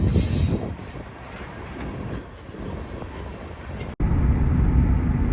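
A train rumbles along the tracks nearby while switching a grain spur, with a high metallic wheel squeal, the noise swelling and easing before a heavier rumble returns.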